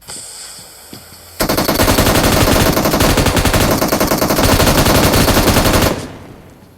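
Sustained automatic gunfire in PUBG Mobile, a long rapid burst of loud, evenly spaced shots lasting several seconds after a few quieter isolated sounds.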